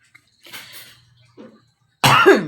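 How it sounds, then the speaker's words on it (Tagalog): An adult coughs: one or two soft coughs and a throat clearing in a quiet room, then a louder, sharp cough close by at the end. "Palagi nang umubo."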